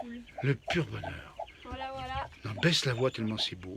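Faverolles chickens and chicks in a backyard coop clucking and chirping close by, mixed in among French voices talking excitedly over them.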